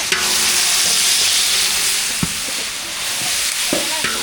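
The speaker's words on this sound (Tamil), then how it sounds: "தக்காளி சேர்த்து நல்லா கலந்து விட்டுக்கலாம்" Tomatoes being stirred into a frying veg biryani masala with ginger paste, a steady loud sizzle and hiss with a few scraping spoon clinks, no talk.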